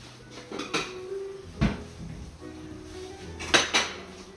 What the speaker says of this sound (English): Move these onions right over here on this plate.